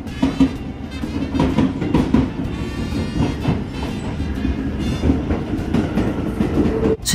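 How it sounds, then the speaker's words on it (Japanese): A Keio Line local train pulls out of Takahatafudo station, heard from inside the car as steady wheel rumble and rhythmic clickety-clack on the rails, loud and continuous throughout. "そして回送列車よりも一足先に列車は高畑不動駅を発車。"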